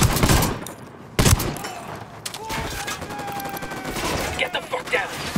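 Rapid bursts of automatic gunfire from Ghost Recon Wildlands during a raid on a cartel camp, loud and close, with sharp volleys rattling over a noisy firefight backdrop and some voices mixed in.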